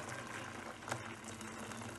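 Boiling water pours from a kettle in a quiet, steady trickling hiss, short and faint with a brief splash near the middle.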